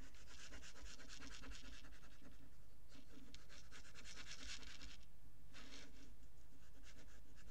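Glue goes onto a paper fold of a Stamperia wedding scrapbook album: soft, faint scratchy rubbing strokes come in short bursts with brief pauses, close up and alone.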